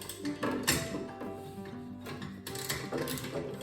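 A wrench or ratchet works a nut loose on a NordicTrack Commercial 2450 treadmill. It gives close, quiet metallic ticking and ratcheting clicks in uneven bursts with some clunks.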